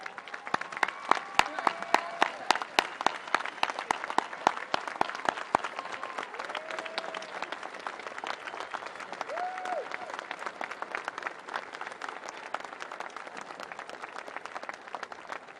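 Sustained applause from a large audience at a 2018 high school graduation ceremony, dense clapping continuing throughout with a brief voice over a PA in the background.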